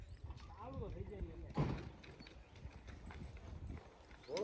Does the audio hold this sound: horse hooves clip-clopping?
yes